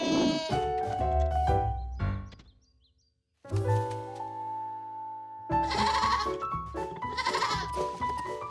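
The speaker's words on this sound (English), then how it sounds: "I'm getting awful tired of chasing goats, George." Cartoon goats bleat on a farm: a run of loud, wavering bleats, then a brief silence before more overlapping bleats return and continue to the end.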